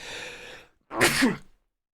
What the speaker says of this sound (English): I sneezed, sorry.